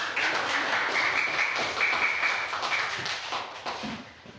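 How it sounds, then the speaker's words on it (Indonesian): Students in a classroom clap together in light, quick applause that fades after a few seconds, heard at moderate distance with no talking. "Tepuk tangan dulu."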